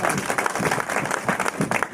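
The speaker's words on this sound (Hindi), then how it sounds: "तालियों से बता दो कि आप मुझे सुन पा रहे हैं।" A crowd at a company training seminar in India claps together, a dense, loud burst of applause filling the room, with no speech over it.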